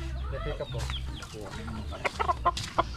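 Chickens cluck close by, a run of short sharp clucks toward the end over a low background hum, with faint voices mixed in.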